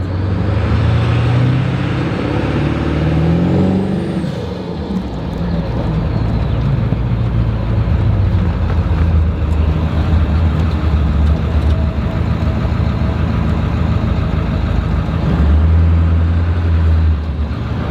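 A 7.3L diesel truck engine running hard on an aggressive performance tune, a loud, steady low rumble and drone that holds close and continuous throughout with slight surges, no talking.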